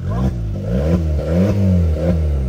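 A manual-transmission car at a dealership fair is revved repeatedly: loud, close engine blips that climb and fall in pitch about four or five times in quick succession, with no talking.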